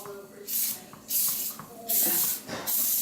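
Cooking spray hisses out in four short, close bursts over cannoli shells, each a sharp airy spray with brief pauses between.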